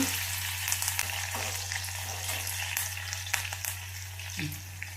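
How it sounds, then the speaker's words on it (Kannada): Onion and curry leaves fry in hot oil in a pan for a Kannada beetroot palya, giving a continuous close sizzle with occasional light stirring scrapes and no talking. "ಈಗ ಈರುಳ್ಳಿ ಹಾಕ್ಕೊಳ್ತೀನಿ ಇದನ್ನು ಕರ್ಬೇವು ಹಾಕ್ಕೊಳ್ತೀನಿ"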